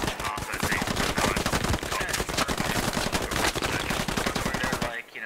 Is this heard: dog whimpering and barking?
no